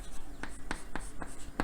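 Quick strokes of writing on paper or a board while a chemistry problem is worked out, five short scratchy taps spaced unevenly, close and quiet.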